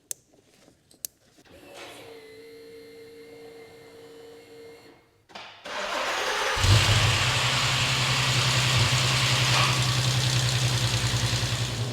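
A VW Passat R36 with a suspected misfire cranks over after electric whirring and clicks, then catches and settles into a loud, steady, slightly lumpy idle close by.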